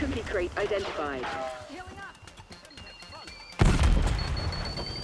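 Grenade explosions in Call of Duty Black Ops, heard as a loud booming blast near the end, with a player talking over game sounds before it.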